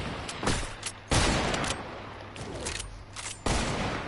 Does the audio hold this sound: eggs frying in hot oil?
no